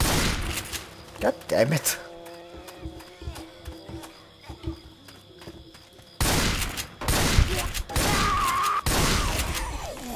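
Gunshots in Left 4 Dead 2, several sharp scattered shots early followed by heavier sustained bursts of fire later, with a voice cursing over the action.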